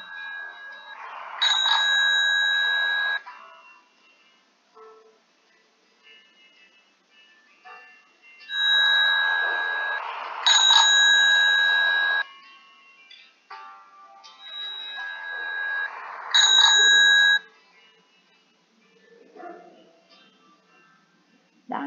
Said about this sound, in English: Ring the bicycle bell.